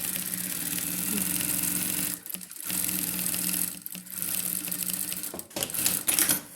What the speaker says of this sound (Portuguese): Vou passar a costurinha, pé de máquina.